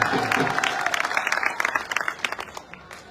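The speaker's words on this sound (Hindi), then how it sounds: "जोर से इनकी ताली बजाते" Applause from a crowd at a political blessing gathering (aashirwad sabha) in Rajasthan, dense clapping at the start thinning into scattered claps, with a voice speaking over it early on.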